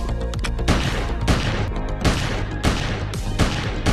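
Repeated revolver gunshots in the VR physics shooter Boneless, a loud burst roughly every half second to second, each with a sharp attack and a short ringing tail, with no talk over them.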